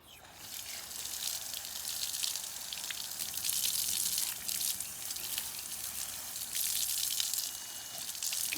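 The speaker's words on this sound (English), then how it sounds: "Rinse it really good with water." Water from a tap rinsing a vacuum cleaner part, a continuous close gushing and splashing that swells and eases as the part is moved under the stream, with no talking.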